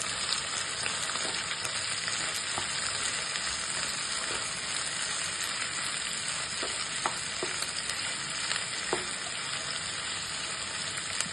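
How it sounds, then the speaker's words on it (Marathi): Ivy gourd (tondli) sautéing in hot oil in a pan, giving a steady close sizzle and crackle throughout, with occasional scrapes and stirring clicks and no talking. "आता झाकण काढूया आणि व्यवस्थित 2 मिनिटं त्याला तेलात परत परतून घ्यायचं।"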